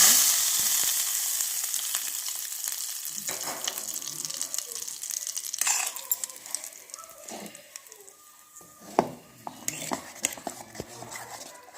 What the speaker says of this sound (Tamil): இப்போ இந்த சட்னியில் தாளிச்சதை ஊற்றிடலாங்க